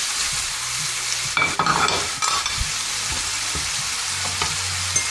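Veal tendrons added to a hot pan sizzle and fry steadily, with bursts of stirring and utensil scrapes against the pan, close and fairly loud with no voices.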